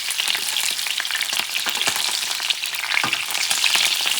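Shrimp fry in oil in a paella pan with a loud, dense, continuous sizzle and crackle, close up and steady, with no voices.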